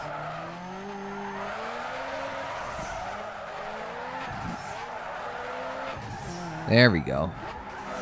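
A high-powered car drifting in Need for Speed Underground 2, engine droning steadily before a sharp, loud tire screech near the end; someone talks over it.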